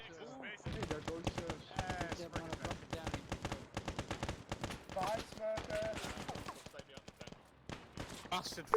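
Rapid gunfire and bursts from a D-Day war video game, dense and continuous throughout, crackling under overlapping voices talking.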